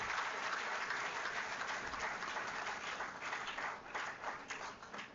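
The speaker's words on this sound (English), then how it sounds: "Please round of applause again and again and again." Audience applause at a university inaugural lecture, a quiet, steady patter of many hands that holds for the whole stretch and thins slightly toward the end.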